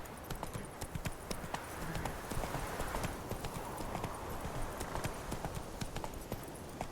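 Roach, the horse in The Witcher 3, gallops in a fast, steady clip-clop of hooves that carries on without a break under a light game ambience.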